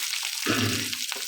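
Shallots hit hot oil with mustard seeds and burst into a loud, crackling sizzle midway, the hiss settling into steady frying close by.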